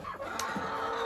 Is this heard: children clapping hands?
no